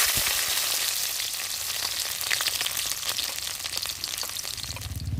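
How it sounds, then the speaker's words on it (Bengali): Garlic cloves frying in a pan for red leafy greens (lal shak), a steady close sizzle with light crackles and stirring scrapes throughout. "রসুনগুলো আমি ভালো করে একটু ভেজে নিয়েছি একটু লাল লাল করে"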